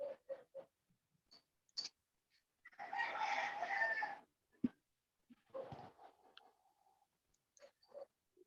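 A chicken clucks in short bursts between quiet pauses, with one longer, louder crowing call in the middle, fairly close.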